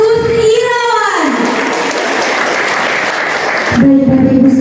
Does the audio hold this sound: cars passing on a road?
no